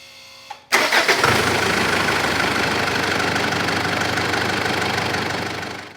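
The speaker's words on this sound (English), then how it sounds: "As you can see, my car started up just fine." A car engine starts after being boosted by a portable jump starter: a short crank catches abruptly, then settles into a steady, loud idle that continues close by to the end, with no talking.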